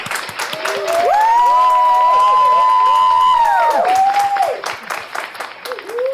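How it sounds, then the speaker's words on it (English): An audience claps and cheers loudly and steadily for several seconds, with whoops and shouts rising over the applause before it tapers off. "NellyNailz, clap it up one more time, y'all."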